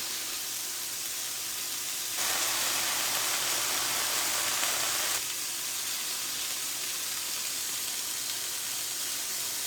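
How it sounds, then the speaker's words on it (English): Vegetables cook in a pan with a constant hissing sizzle that swells louder for a few seconds in the middle and then settles back to an even, steady frying noise. "So we're going to cook that a little bit."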